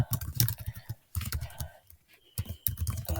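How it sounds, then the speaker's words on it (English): Quick bursts of typing on a computer keyboard as a username is entered, clustered keystrokes with a short pause in between, close and clear. "you could just type in your username"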